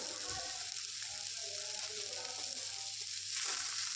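Salted broad bean thoran fries in a pan, a steady close hiss of sizzling oil with soft scraping from stirring and faint voices in the background.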